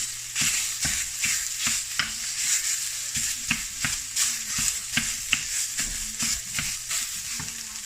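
Sausage broken up and frying in a pan for kimchi udon: a steady sizzle punctuated by regular, rhythmic spatula scrapes and taps, close and fairly loud, with no talking.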